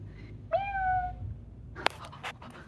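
A person's voice imitates a cat, giving one drawn-out, rising-then-falling meow at moderate loudness, followed by a short sharp click and faint rustling.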